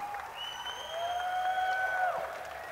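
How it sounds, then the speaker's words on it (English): Applause from a crowd at a Halo 4 gaming tournament's main stage fills the space as a continuous, moderately quiet patter, with a few sustained whistle-like tones rising above it. "a big round of applause right now"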